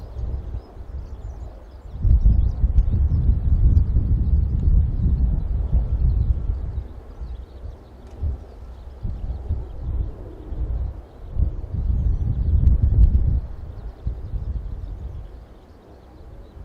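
Strong wind gusting across Hakodate Airport, a steady low roar that swells and eases in surges, with wind buffeting the microphone and no voices.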